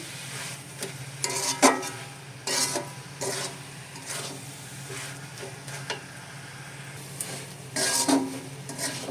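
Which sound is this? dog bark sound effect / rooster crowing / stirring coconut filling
stirring coconut filling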